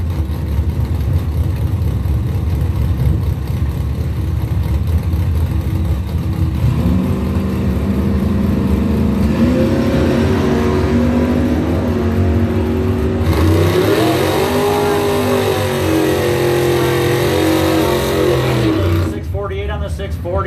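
A 1967 Plymouth Belvedere II Mopar roars at a drag strip, its engine droning loudly and climbing in pitch through hard acceleration runs, with a voice talking over the noise.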